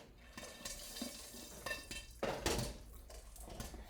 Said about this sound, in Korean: 이 팝콘이 터지는 소리가